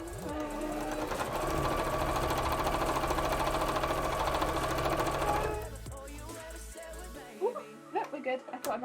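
A sewing machine stitches the lining of a cosplay dress with a steady, close mechanical whir and rhythmic needle chatter for about five seconds, then stops, leaving a few handling clicks and knocks.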